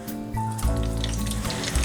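Ground, roughly chopped pepper and onions hitting hot palm oil in a pan for nkwobi, a steady crackling sizzle with a low hum underneath.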